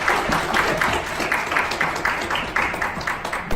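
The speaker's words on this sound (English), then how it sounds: "Another round of applause for Rick and Tasha." A television studio audience applauds for Rick and Tasha, a moderately quiet, steady patter of many hands clapping with rhythmic pulses and no voices on top.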